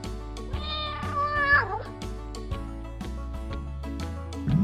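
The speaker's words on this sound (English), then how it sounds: "can you hear that purring sound?" An orange cat meows loudly, with drawn-out, wavering cries over a low rumbling purr, up close and with no talk.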